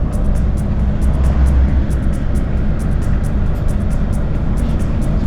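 A taxi car drives past on a road near the Russia–Belarus border crossing, a loud continuous engine and tyre rumble close by with steady road noise throughout.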